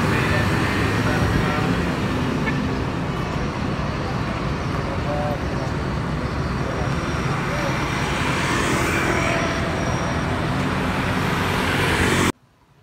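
A Tronton bus with a Mercedes-Benz engine drives through traffic, giving a steady, loud, close engine roar and road rumble that holds throughout before cutting off abruptly at the end.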